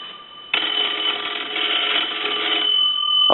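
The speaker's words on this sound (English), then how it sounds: "ring the bells like you were getting a call that was coming in" A single loud ring of an old Kellogg wooden wall telephone's bells, a metallic rattling clatter lasting a couple of seconds before cutting off.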